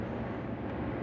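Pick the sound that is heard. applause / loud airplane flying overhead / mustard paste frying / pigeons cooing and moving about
loud airplane flying overhead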